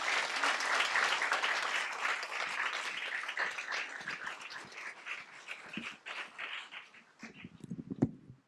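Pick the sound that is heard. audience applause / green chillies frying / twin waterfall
audience applause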